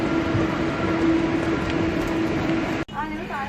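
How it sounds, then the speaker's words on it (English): A train at a station in Malaysia gives a steady rumble with a low electric hum, then cuts off to quieter station ambience with faint voices. "I don't want to miss this train because the next train will be after 17 minutes."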